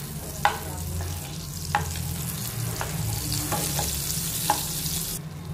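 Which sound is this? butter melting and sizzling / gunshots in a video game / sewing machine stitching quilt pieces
butter melting and sizzling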